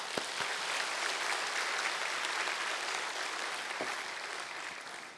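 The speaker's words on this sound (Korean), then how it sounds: "모든 분들 한번 감사의 박수 한번 드리겠습니다" Sustained applause from a large church congregation at a Sunday service, steady and dense clapping that holds for several seconds before slowly tapering off.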